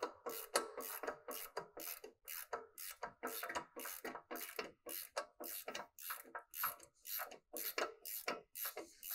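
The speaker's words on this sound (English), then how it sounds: "So I'm going to get a socket here and we're going to take this caliper bracket off." A socket ratchet loosening the caliper bracket bolts on a vehicle's brakes, a quick run of close, evenly repeated clicking strokes over several seconds.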